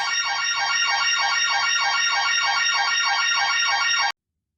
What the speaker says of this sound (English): you'll have the alarm going off when you start mauling around near the window